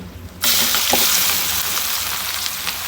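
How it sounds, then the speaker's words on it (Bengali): Chopped onions hit hot oil and sizzle loudly and steadily, the frying hiss continuing close up with faint stirring. "পেঁয়াজগুলো একদম ভাজা ভাজা করে নেব।"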